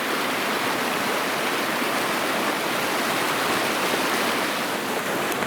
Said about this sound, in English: I'm chilling by the river with Codes here.